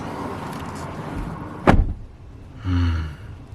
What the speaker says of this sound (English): Did you guys hear how quiet it sounded when I closed that door?